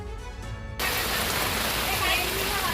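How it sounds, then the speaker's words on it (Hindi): Heavy, continuous downpour in Valsad district, Gujarat, a dense steady roar of rain that takes over abruptly after a short stretch of talk at the start. "तस्वीरें गुजरात के वलसाड जिले की है, जहां लगातार मूसलाधार बारिश हो रही है।"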